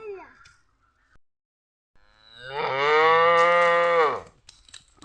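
A cow on a farm holding about six cattle gives one long loud moo lasting around two seconds, preceded by a brief voice and quiet pauses.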